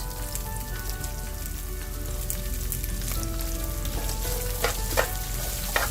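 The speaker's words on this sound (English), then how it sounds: "Now give it a quick stir, make sure that it's coated with all of the powders." Okra pieces coated in turmeric, chili powder, cumin powder and salt sizzle steadily in a hot pan, a dense, even crackle with a few louder spits near the end and no talk.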